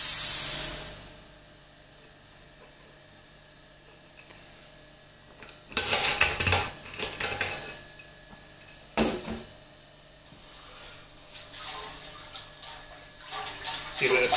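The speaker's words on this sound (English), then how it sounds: "So I'm just going to pull on the pressure relief valve again," Gas hisses out of a home-brew beer keg's pressure relief valve in several sharp bursts after a quiet stretch, close and loud, with a clank or two of metal between releases.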